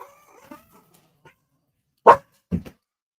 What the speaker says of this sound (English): Hey, why are you barking like that?